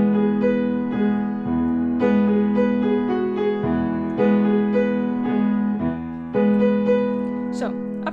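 A solo piano plays the verse of a song, a steady sequence of clear chords and melody notes in even rhythm, close and moderately loud with no voices.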